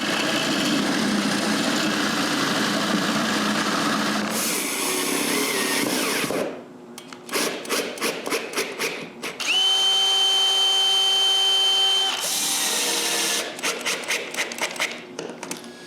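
A power drill bores mounting holes in wood, with loud sustained whirring runs, a brief pause, then rapid stuttering bursts and a steady high whine before more short pulses.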